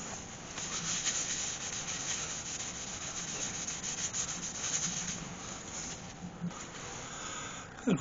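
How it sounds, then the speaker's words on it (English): Sanding sealer on a spalted ash bowl turning on a lathe, a steady close abrasive hiss with a soft rhythmic whir, continuous and alone until a brief knock at the end. "Sand the sealer."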